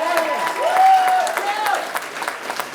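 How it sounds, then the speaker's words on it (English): Applause from attendees at a film and TV alliance meeting, moderate clapping that swells and then thins, with a voice speaking over it part of the time. "let's give them a big round of applause"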